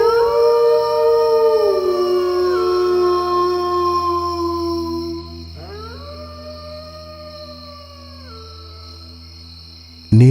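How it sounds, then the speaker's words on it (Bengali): A pack of jackals howls at night around a fog-covered village, several long wavering voices rising and falling together, loud and fairly near, then a second shorter chorus fades out. "তার মাঝেই শোনা যাচ্ছে অনেকগুলো শেয়ালের ডাক"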